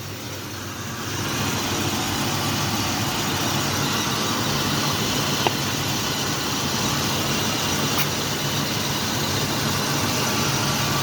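A 1969 Ford Mustang Mach 1 with a rebuilt carburetor, new distributor and new fuel pump idles steadily, a loud, close, continuous low engine rumble with no talking.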